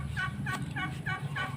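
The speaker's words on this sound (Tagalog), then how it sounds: "Ayan na yung mga nag-aabang na gutom na manok" Hungry chickens waiting to be fed give a quick series of about five evenly spaced squawking calls, fairly faint and steady over a low background hum.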